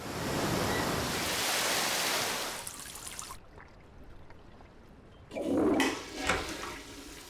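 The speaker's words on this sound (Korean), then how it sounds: "거대한 폭포수가 한 차례 지나가고 다시 살아난 재림" A huge waterfall pours a heavy, steady roar of rushing water that fills the first few seconds, then drops away to a quieter wash with a sudden splashing surge near the end.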